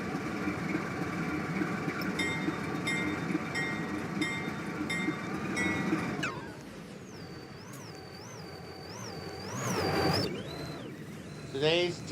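An NYSW freight train rolls slowly into a hump yard with a steady rumble and squealing wheel tones, fading to quieter rail noise with a warbling squeal near the end.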